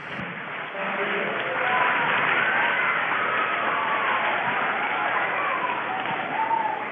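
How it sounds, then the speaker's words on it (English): Cheering and applause from an audience of roughly 800 students at a school assembly, a dense sustained roar of voices and clapping that swells after the first second and holds steady throughout. "I don't know if the mic is picking up the cheers and the applause"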